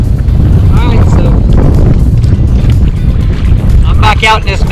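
Strong wind buffets the microphone of a kayak angler fishing an inlet for sea trout and red drum. The roar is loud and continuous, with faint voice traces near the end.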